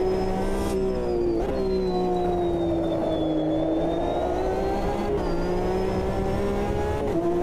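BMW race cars in the racing game Automobilista 2 accelerate with a loud, continuous engine drone, its pitch rising and falling through gear changes at steady close range.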